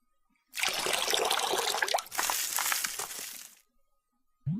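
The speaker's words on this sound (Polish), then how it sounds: "Tym razem podlejemy wodą tę roślinkę." Water is poured onto a small plant in a game-like product, a close splashing trickle running in two long stretches with a brief break between them, then silence and a short final sound.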